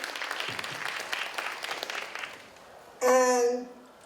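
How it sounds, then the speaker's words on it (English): Applause from attendees at a community conversation on teen mental health, moderate clapping for about two and a half seconds that dies down, followed by a sudden loud tonal sound near the end. "Let's give ourselves a round of applause for being here."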